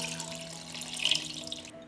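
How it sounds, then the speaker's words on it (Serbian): Water pours steadily into a cooking pot holding five chicken drumsticks, a close, continuous splashing rush that cuts off at the end. "Sipat ću vodu da prekriju batake."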